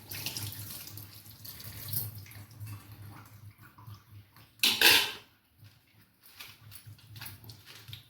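Tap water runs into a sink while soybean chunks are washed, an intermittent splashing flow with a louder gush near the middle and quieter trickling around it.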